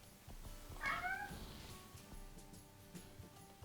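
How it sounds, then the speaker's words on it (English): A cat meows once, fairly close, one short rising-falling call over quiet room noise, followed by faint household sounds. "That was the cat."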